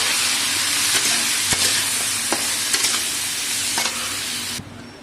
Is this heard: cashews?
yes